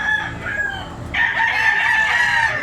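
A gamefowl rooster of black-leg type crows loudly and close by in a single sustained call that swells partway through, with no one speaking.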